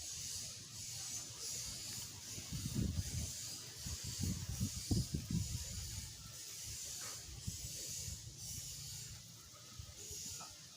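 Soft close rubbing and scratchy rustling as the twisted copper wire cores of an RJ45 network cable are untwisted and straightened by hand, with a few louder bursts in the middle, over a steady hiss.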